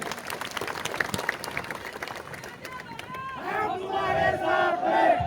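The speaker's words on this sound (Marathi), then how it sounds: "आनंदराज आंबेडकर साहेबांसाठी एकदा जोरदार टाळ्या झाल्या पाहिजे" A crowd at an outdoor protest rally claps and cheers, starting as scattered noise and swelling into loud applause mixed with shouting voices near the end.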